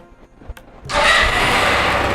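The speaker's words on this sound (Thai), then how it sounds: "ก็ทำการสตาร์ทเครื่องยนต์เลยนะฮะ" Quiet clicks, then a Tuscany 150 motorcycle engine catches and settles into a loud, steady idle roar close by.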